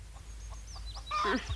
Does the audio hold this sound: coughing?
no